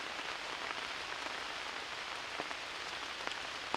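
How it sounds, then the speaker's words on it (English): Steady rain patters on a tarp stretched over a woodland camp during a thunderstorm, a dense even hiss with occasional louder drips close by, with no voices. "I love when it rains in the woods and I have a good little living room set up."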